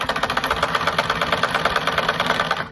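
A sewing machine stitches cloth close by, its needle driving in a fast, even rapid-fire rhythm of mechanical pulses that runs steadily and stops abruptly at the end, with no talk over it.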